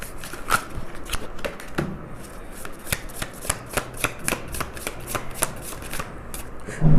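Tarot cards being shuffled and pulled from the deck, a run of crisp, rapid riffling snaps and flicks repeating close up, with no talking.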